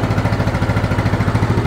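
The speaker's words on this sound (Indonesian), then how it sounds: "nih gue mau nyalain motornya nih" A 2008 Yamaha Mio Sporty scooter engine running just after starting, a steady, close, rhythmic low putter that stays even for under two seconds with no voices.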